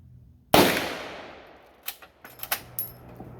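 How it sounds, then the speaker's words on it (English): One loud gunshot from a bolt-action AR rifle fitted with a MidTen green dot sight cracks close by and decays, followed by a few quick metallic clicks and clacks of the action being worked. "So we're going to get some shots off."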